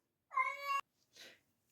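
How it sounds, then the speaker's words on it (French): A domestic cat, about to vomit, gives one clear, drawn-out meow up close in a quiet room, followed by a short soft rustle. "c'est mon chat qui me prévenait qu'elle allait faire un vomito"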